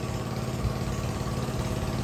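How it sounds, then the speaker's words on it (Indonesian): A motorcycle engine on a road gives a steady, close, loud drone that barely changes over the short stretch, with no voices. "Oh, kayaknya terlihat motor tuh."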